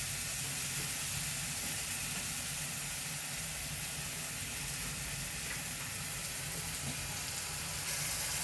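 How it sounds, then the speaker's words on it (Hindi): Bananas frying in a pan for banana halwa give off a steady, close hiss and sizzle that runs unbroken throughout, with no voices. "केले अच्छे से फ्राई करने का उसके साथ"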